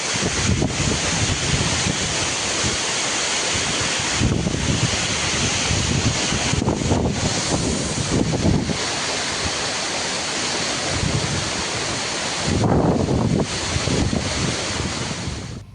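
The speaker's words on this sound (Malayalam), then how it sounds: "പത്തനംതിട്ട ജില്ലയിൽ തന്നെ നല്ലൊരു സേഫായിട്ടുള്ളൊരു വെള്ളച്ചാട്ടം കൂടിയാണ് അരുവിക്കുഴി വെള്ളച്ചാട്ടം" Aruvikuzhi waterfall in Pathanamthitta rushes in a constant loud, broadband roar of falling water, steady and close, with wind buffeting the microphone in bursts.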